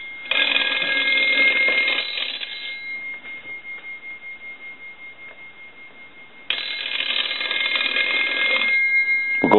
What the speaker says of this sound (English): want to go ahead and ring the telephone